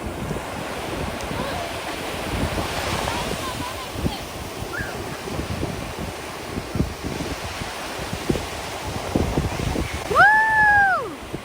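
Ocean surf rolls and washes continuously at a beach on a hot day, mixed with heavy wind buffeting the microphone, and brief faint voices rise near the end.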